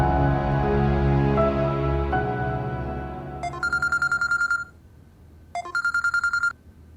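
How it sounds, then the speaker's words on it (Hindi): A sustained tone fades out, followed by two bursts of rapid, evenly pulsed electronic phone ringing separated by a short pause. "ये मेरा फोन लें और अरसल भाई को मिलाएं"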